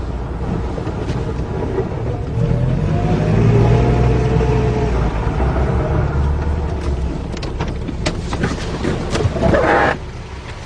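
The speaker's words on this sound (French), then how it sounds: "Coupe pas le moteur, ça sera pas long." A car engine idles and rumbles steadily at close range, a low continuous drone with some wind noise and faint shifting sounds over about ten seconds, with no talking.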